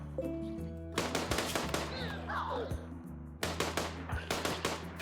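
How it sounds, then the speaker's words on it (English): Rapid bursts of automatic gunfire crackle in the RimWorld video game as colonists shoot at shamblers, with dense overlapping shots, a short lull, then renewed volleys over a steady low game hum. "let's use overwhelming bullets to kill these shamblers"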